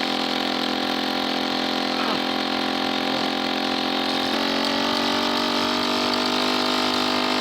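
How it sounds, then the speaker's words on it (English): A Solex moped engine runs steadily throughout, a buzzing drone with a slight shift in pitch partway through, close and continuous with no talking. "Did you hear the engine pick up then?"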